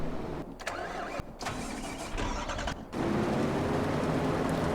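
A Farming Simulator 25 tractor engine in a spinach and green bean harvesting scene cranks in short bursts, then catches and settles into a loud, steady close idle.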